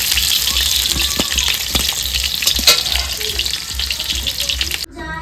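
Meat cooking in a pan, a loud close sizzle and fry running continuously with stirring clatter, fading abruptly near the end.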